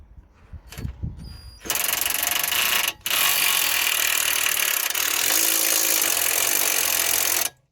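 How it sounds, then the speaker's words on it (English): Power tool whirring loudly and steadily while tightening the track rod end on a Mitsubishi Lancer steering rack, a brief pause midway, after a few light knocks at the start. "Just gonna tighten the track rod end."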